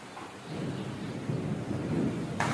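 Steady rain falls with a low rumbling wash of thunder underneath, moderately faint and continuous, ending in a brief brighter burst of noise.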